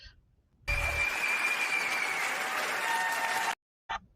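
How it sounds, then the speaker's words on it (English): A summit audience claps for parents in a steady, fairly soft burst of applause lasting about three seconds, starting abruptly and cutting off cleanly. "parents, I must give you all a round of applause"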